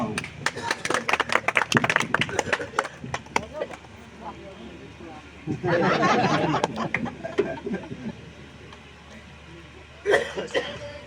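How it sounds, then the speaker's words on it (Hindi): An audience at a political stage event claps in bursts, dense at first, then a second swell and a short final flurry, with coughs and murmuring voices mixed in between. "जोरदार ताली थोड़ा सा।"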